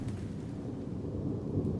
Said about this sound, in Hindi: एक दो दिन लगातार तेज बारिश चलती रही।